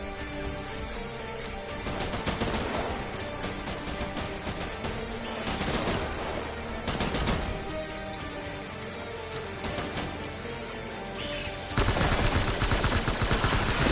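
Sustained gunfire in the video game Death Stranding: dense, continuous bursts of shots under a loud, busy battle mix, growing heavier and louder toward the end with no speech.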